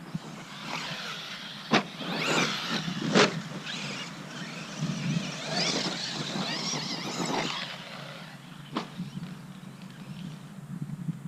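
An Arrma Kraton EXB RC car that may have broken runs with a noisy, whirring, scraping motor sound rising and falling over several seconds, with a couple of sharp clacks, heard from a moderate distance outdoors.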